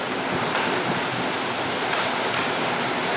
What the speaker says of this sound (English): That's the waves coming over the deck.